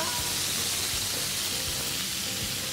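Food fries in a single pan with a dense, continuous sizzle and crackle close by, small pops scattered throughout and no talking.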